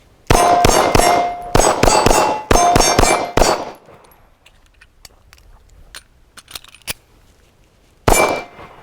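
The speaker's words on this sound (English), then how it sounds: "Let's put some rounds through it, because what does a gun say if you're not shooting it?" HK P30sk compact pistol fired downrange: three quick bursts of loud sharp shots in rapid sequence, then a lull with faint clinks, and one more shot near the end.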